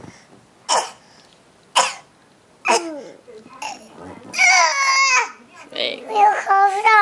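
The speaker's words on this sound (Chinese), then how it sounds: "妹妹学你咳嗽" A little girl fakes a cough with several sharp, close coughs spaced apart, followed by whiny babbling and crying-like vocal sounds, with people talking.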